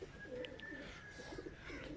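Nawab pigeons give low, burbling coos in short repeated phrases, close and fairly soft over a steady background hum, with no talk.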